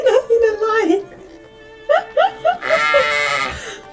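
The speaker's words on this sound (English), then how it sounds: "So there are also sheep." Sheep bleat in the medieval village game Medieval Dynasty, giving a few short, close calls in quick succession, with people talking and reacting around them.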